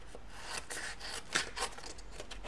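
An old notebook is cut by hand for a card base: a quiet run of short, dry snips and rasping scrapes, with a couple of slightly sharper cuts near the middle and no voices.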